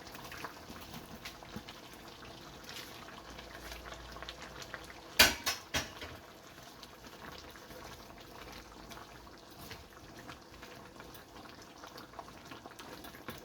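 Potatoes and carrots drop into a simmering pot of chicken curry with a few quick clattering knocks of utensil on pot, over a steady low bubbling and faint kitchen clinks.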